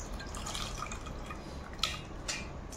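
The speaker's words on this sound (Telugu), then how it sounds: "తర్వాత ఈ చింతపండు వాటర్ కూడా దీంట్లో పోసేసుకోవాలి" Tamarind water trickles and drips into a bowl of squeezed tomatoes, a soft continuous liquid splashing with a few sharper drops near the end, quiet and close.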